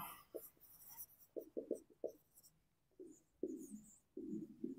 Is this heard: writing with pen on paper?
yes